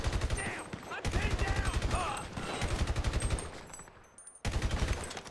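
Bursts of automatic gunfire in GTA V during an armored van robbery, rapid rhythmic shots in several loud volleys separated by short pauses, with a voice speaking faintly underneath.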